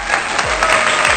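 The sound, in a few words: audience applause at teaching awards ceremony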